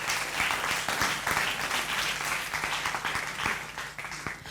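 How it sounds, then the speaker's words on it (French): An audience applauds for children at a school student-journalism festival, a dense burst of clapping from many hands that swells and fades slightly while continuing throughout. "On applaudit pour tous ces enfants-là."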